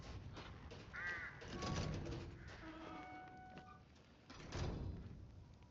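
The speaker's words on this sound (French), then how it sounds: "Depuis tout à l'heure, il y a des corbeaux qui chantent" Crows caw a few times in the video game Resident Evil Village, a faint, distant setting, harsh calls scattered among soft background rustles and thumps.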